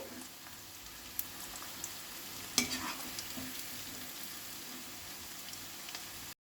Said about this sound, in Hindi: बाकी जो गोभी बचा है अब इसको हम तेल में डाल देंगे